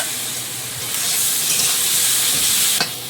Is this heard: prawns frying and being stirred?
yes